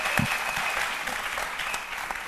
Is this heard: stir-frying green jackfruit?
no